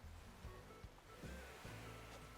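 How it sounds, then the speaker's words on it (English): Gentle ocean waves wash steadily at a seaside beach café in Animal Crossing: New Horizons, a soft continuous surf swell with faint low rumbles and no talking. "You can sit down and have a cup of tea while listening to the waves."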